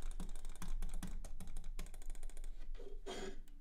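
Quiet, rapid keyboard tapping with sharp clicks mixed in, like keys and a mouse being struck together, faint and close.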